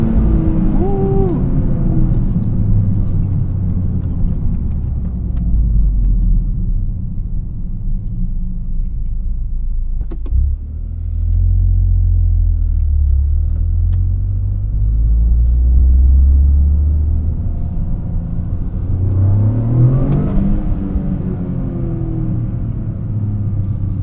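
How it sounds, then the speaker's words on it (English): A Toyota GR Corolla's engine drones and rumbles from inside the cabin while driving, with throttle blips and a rising rev around a downshift late on, the low engine note steady and prominent throughout. "Downshift rev matching is great on here"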